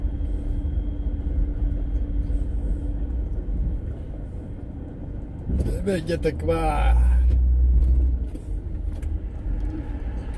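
Dense road traffic on an American road trip near Sturgis: a continuous low rumble of passing vehicles, with a louder rush of a heavy vehicle mid-way, while people talk over it.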